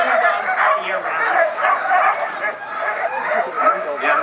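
Sled dogs yip, whimper and bark in quick overlapping bursts, eager and fairly close, with people talking over them.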